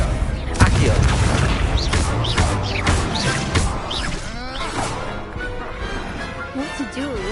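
Spells crackle and booming explosions go off repeatedly in the video game Hogwarts Legacy during a tournament duel, dense and loud throughout, with voices talking over the action.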